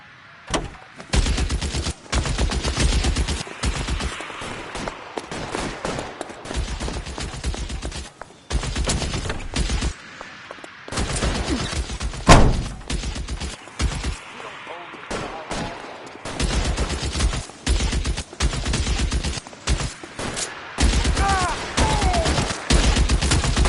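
Loud, sustained gunfire during a shootout in the video game L.A. Noire: rapid overlapping bursts and volleys, close and heavy, with a few short lulls between barrages.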